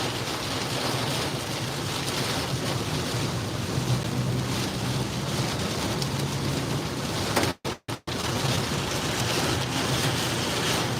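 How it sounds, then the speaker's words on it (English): Loud, constant roaring wind from a severe Kansas storm buffets the microphone, with leaves blowing, a rushing, rain-like hiss throughout and a brief dropout near the end. "Real windy here, leaves blowing everywhere"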